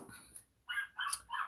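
A small pet dog named Queenie barks indoors in several quick, sharp bursts separated by short pauses, fairly close and moderately loud, with no talking.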